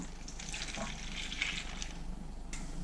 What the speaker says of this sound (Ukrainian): До яєць вливаю молоко